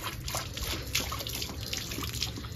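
Water running and splashing as it is poured out for a dog to drink, a fairly faint, continuous trickling with small irregular splashes.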